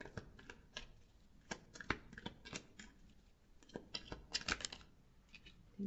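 Tarot cards shuffled and drawn at close range, a quiet run of soft riffling flicks and light taps in uneven bursts, with no talking.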